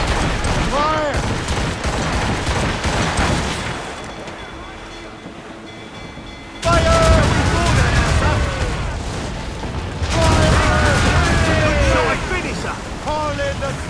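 Naval battle in Assassin's Creed Rogue, with ship cannons firing in loud rolling volleys of booms over wind and splashing water, a quieter lull in the middle, and voices shouting orders throughout.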